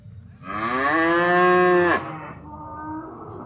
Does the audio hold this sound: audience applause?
no